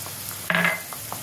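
Ground turmeric, chilli, cumin-coriander powder and garam masala fry and get stirred in a pan for Bengali crab curry, a soft steady sizzle with one louder, brighter burst of frying midway through the short stretch.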